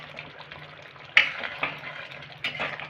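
A pointed gourd curry with sugar simmers in a pan over a raised flame, a soft bubbling sizzle broken by three sharp clinks of a utensil on the pan; no talking.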